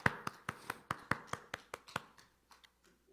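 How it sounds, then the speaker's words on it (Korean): A small congregation claps hands in a Korean church during a Sunday worship service, about a dozen sharp, separate claps that start loud and fade to a few scattered faint ones. "우리 박수 할까요?"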